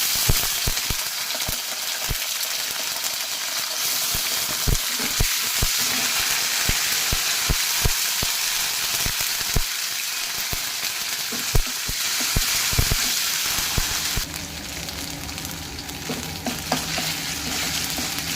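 Garlic-ginger paste fries and is stirred in a hot pan for an egg rice dish, giving a steady loud sizzle with repeated sharp spoon scrapes and knocks throughout, easing slightly toward the end.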